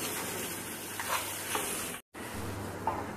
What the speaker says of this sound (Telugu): ఇప్పుడు దంచుకున్న మసాలా పౌడర్ చికెన్లో వేస్తున్నాను. వేసి ఒకసారి కలుపుకుందాం